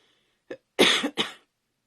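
A person coughs during an indoor cardmaking demonstration, a short light cough followed by two heavier, rougher bursts in quick succession, close and alone with no talking.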